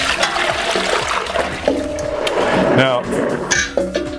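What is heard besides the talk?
water running to fill a pot for rinsing a hairpiece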